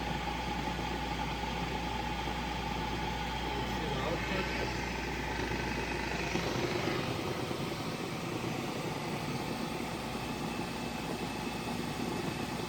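A 1962 Triumph TR4 engine runs steadily in fourth gear at about 1500 rpm, a constant low drone heard up close for the whole stretch. Someone talks over it.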